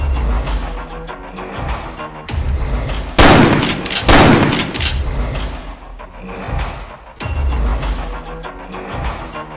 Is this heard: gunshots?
yes